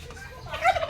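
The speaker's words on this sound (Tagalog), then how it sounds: "So daming pabo, daming itik." Turkeys on a rural provincial farm give a short burst of gobbling that rises in the second half, moderately close, with faint background noise.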